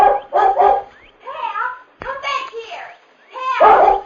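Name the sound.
collie dog barking in radio drama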